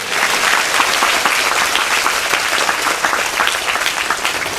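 A congregation claps in praise during a Hindi sermon, loud and dense, with many hands beating in a continuous, slightly rhythmic patter from start to end.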